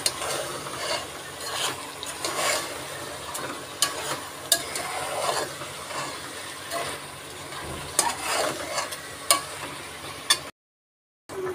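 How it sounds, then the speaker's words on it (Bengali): Khapsa meat cooks down with spices in a pan, giving a steady sizzle broken by frequent spoon scrapes and clinks, close and continuous before a short dropout. "এই যে খাপচা মাংসটা ভালো মতন কষিয়ে নিয়েছি"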